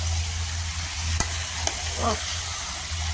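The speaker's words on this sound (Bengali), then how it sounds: "পেঁয়াজ দিয়ে একটু হালকা সোটে কষাও, ভালো করে জমিয়ে কষাও।" Onions sautéing in a pan for a chicken dish, a steady broadband sizzle with a couple of sharp utensil taps and a brief scrape of stirring, close and continuous with no talk.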